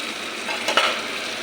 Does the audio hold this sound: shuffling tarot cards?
no